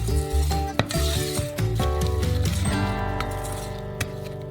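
A spoon scrapes and stirs through thick cream with dried raspberries in a pan, steady rubbing strokes with a few light clinks against the metal.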